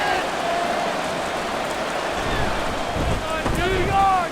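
Rain falls steadily across a football stadium in Madden NFL 24, a dense, even hiss holding the whole time with a commentator's voice and crowd noise layered over it.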